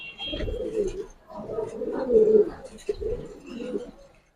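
Giribaz pigeons coo in a loft, low throaty rolling calls overlapping in a continuous murmur, close and moderately soft.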